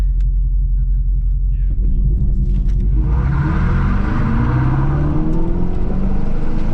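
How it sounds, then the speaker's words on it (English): Electric Dodge Charger Daytona launching under launch control, a deep steady rumble that swells into a rising synthetic whir and road roar as it accelerates hard off the line, loud and close from inside the cabin. "All right, launch control in the new Dodge Charger Daytona."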